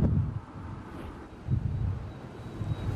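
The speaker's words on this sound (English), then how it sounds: "it's pretty windy. It's died down from what it was just a few hours ago, but you can see the howling wind" Strong wind gusting outdoors beside a news station at night, a steady low rumble and buffeting against the microphone that swells in waves, with no voices.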